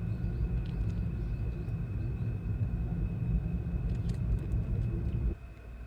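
Cars driving along a road beside a cleared sidewalk, heard as a steady low traffic rumble that continues without a break before dropping off sharply near the end.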